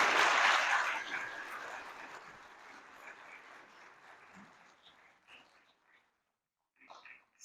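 A church audience at Our Lady of Mount Carmel applauds after a lay testimonial; loud clapping at first that gradually thins and fades to scattered claps, then a voice begins speaking.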